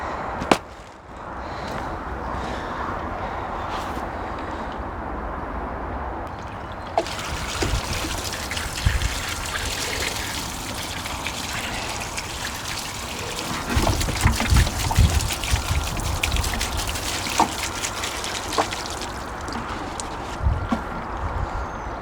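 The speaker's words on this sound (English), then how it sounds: "So I'll just give these a quick swill off with a watering can" A watering can pours water over freshly dug Jerusalem artichokes. The steady splashing and trickling starts around seven seconds in and carries on loudly, a close, broad, continuous wash of water.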